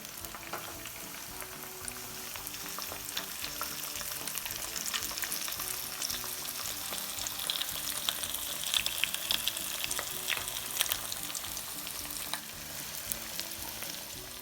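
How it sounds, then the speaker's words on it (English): Fish frying in hot oil for sweet and sour fish, a steady dense sizzle and crackle with occasional sharper pops that holds on continuously, close and fairly loud, with no talking. "So here it is, and now let's fry."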